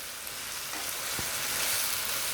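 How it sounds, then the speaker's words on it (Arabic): Sliced bell peppers frying with liver in a pan and being stirred, a steady loud sizzle with a brief scrape of the utensil partway through, no voices. "وهنزل عليها باخر حاجه عندي فلفل رومي متقطع شرايح كده"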